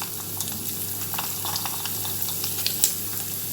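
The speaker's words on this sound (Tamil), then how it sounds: "சேர்த்து பொரியட்டும்." Black pepper and cumin seeds frying in hot sesame oil for a fish kuzhambu, a soft steady sizzle with scattered small pops and crackles, quiet and close, no voices.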